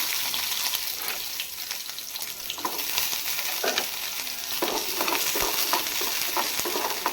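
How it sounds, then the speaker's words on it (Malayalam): Garlic and shallots fry in a pan for a curry to serve with rice, giving a steady, close hiss and crackle with occasional scraping stirs, and no talking. "എന്നിട്ട് നമുക്ക് വെളുത്തുള്ളി ഇട്ട് കൊടുക്കാം. അപ്പം തന്നെ ചെറിയുള്ളിയും"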